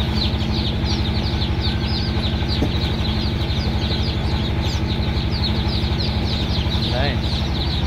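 Many baby chicks cheep continuously and close by as they are sorted into males and females under a light, over a steady mechanical hum, with a voice talking intermittently.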